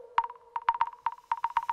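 A synthesized ping-pong delay effect in an electronic remix sounds like a ball bouncing around a reverberant room, with crisp, repeating pinging blips in uneven clusters over a faint sustained low tone.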